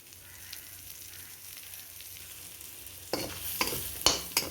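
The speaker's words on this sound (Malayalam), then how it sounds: "ഈ മുളകും കൂടുതൽ ഫ്രൈ ആയി പോകണ്ട, അതിൻ്റെ കളർ നഷ്ടപ്പെടും" Chillies frying in hot oil for a homemade fish pickle, a soft steady sizzle that swells into louder crackling bursts and stirring scrapes near the end.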